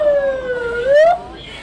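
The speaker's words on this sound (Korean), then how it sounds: "구급차 두 대 왔습니다." Ambulance siren wailing loud and close during a roadside emergency on Gadeokdo island in Busan, one rising sweep of its tone, with other sounds faintly behind.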